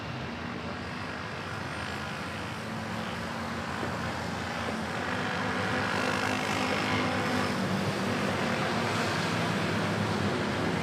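Boeing 777 airliner at Manila Airport, a broad, steady jet roar that swells slightly and holds, distant-to-moderate and continuous with no talk.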